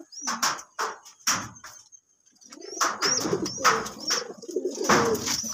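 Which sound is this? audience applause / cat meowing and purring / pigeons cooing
pigeons cooing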